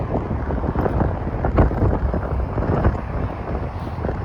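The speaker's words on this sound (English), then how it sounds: "it's very windy today" Strong, gusty wind buffeting the microphone outdoors while walking through the Downsview neighbourhood of North York, Toronto, a loud continuous rumble that swells and dips with each gust, with no talking.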